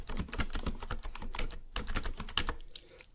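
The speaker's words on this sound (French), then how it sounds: "J'ai prévu le clavier." Rapid, irregular keystrokes on a computer keyboard, close and clear, with a brief pause midway before the tapping resumes, set in a quiet library where people do homework on computers; no voices.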